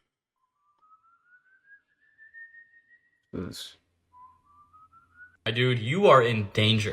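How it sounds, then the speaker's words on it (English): A thin, slowly rising whistle drifts through near silence, followed later by a second eerie whistled tone, then a voice speaks loudly over it. "If you hear random whistling outside at night,"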